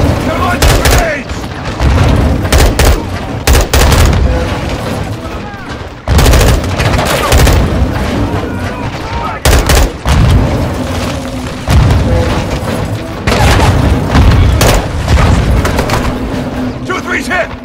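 Call of Duty Modern Warfare II battle with loud, heavy grenade explosions and booms alongside bursts of automatic gunfire, dense and continuous with brief lulls, as soldiers shout over the combat.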